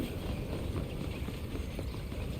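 Horse hooves clip-clop steadily through the game world of Red Dead Redemption, a continuous busy trotting patter with no talk over it.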